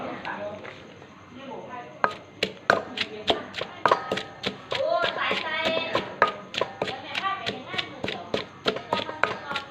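Chilies and spice paste pounded in a mortar for a homestyle stir-fried frog dish, giving a run of sharp, fairly regular thuds close by, with a voice talking underneath.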